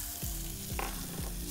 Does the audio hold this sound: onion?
yes